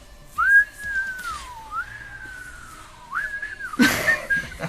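A person whistles a few long sliding tones, rising and falling in a slow wavering melody, clear and close, followed by a brief burst of noise.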